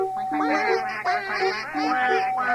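A child imitates a duck, making a run of nasal, honking quacks with the voice, close and fairly loud over a steady faint hum.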